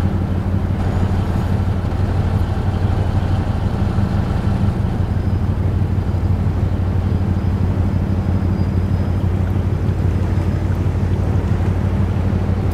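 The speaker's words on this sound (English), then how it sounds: "What the hell is that engine sound?" Low, continuous drone of a ship's engine in the American Truck Simulator video game, an unchanging rumble with a faint breathy hiss over it and no talking.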